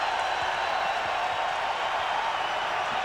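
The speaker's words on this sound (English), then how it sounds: "Now this crowd is roaring." Basketball arena crowd at a 1999 NCAA Tournament first-round game roaring in a dense, sustained wash of noise that stays loud and even throughout.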